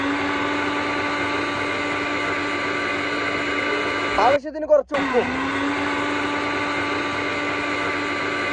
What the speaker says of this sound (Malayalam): മിക്സിയുടെ ജാറിന്റെ മൂടിയിട്ട് നൈസായിട്ടൊന്ന് മിക്സി ഓണാക്കി